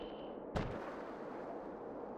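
Cannon fire in the WWA RTS strategy game: one sharp, heavy boom that rolls out into a rumble over a continuous backdrop of battle noise.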